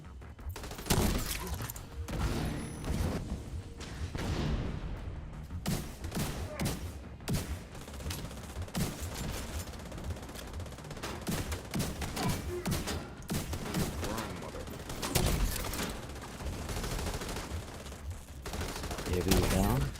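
Rapid video-game gunfire rattles almost without pause, bursts of automatic shots and single cracks over a constant noisy battle bed, with a voice talking now and then.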